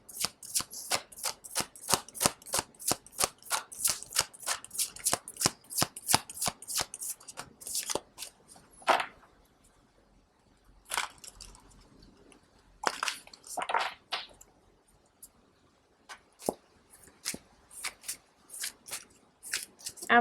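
A deck of cards is shuffled for a pick-a-card reading, a fast run of crisp riffling flutters followed by scattered softer slides and taps, close and without speech.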